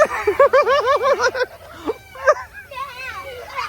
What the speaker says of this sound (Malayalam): ഈ വിളിക്കുന്ന മയിലാണോ